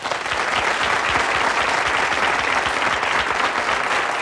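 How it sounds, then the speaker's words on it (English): Studio audience at a 1989 television pilot giving guests a warm welcome, loud, dense, sustained applause filling the room evenly from start to finish. "They deserve a very special welcome and round of applause."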